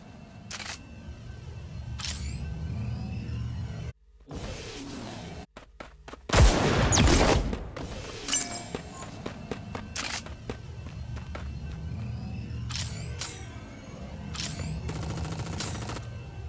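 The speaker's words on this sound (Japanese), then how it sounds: "銃声よ、気を引き締めて。" Gunfire in the mecha battle game Super Mecha Champions, bursts of sharp shots and rapid volleys with brief silent gaps and a dense loud flurry in the middle, over game sound effects.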